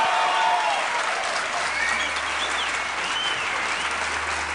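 A TV studio audience applauds a comedian guest, a loud, full and sustained wash of clapping that holds steady throughout with faint voices under it.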